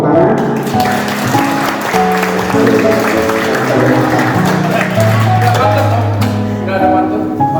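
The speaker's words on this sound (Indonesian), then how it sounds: "Tepuk tangan." A crowd claps steadily throughout, mixed with tonal music or voices playing underneath.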